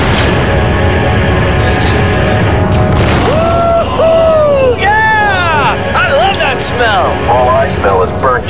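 Explosion in the Star Wars Republic Commando game on Geonosis, a loud boom and rumble followed by whooping, warbling alien calls and crowd-like babble over a constant noisy backdrop.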